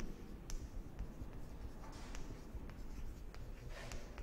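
Faint scratching of a pencil on paper as a number is written out in words, soft continuous strokes with small taps, close but quiet, no talking.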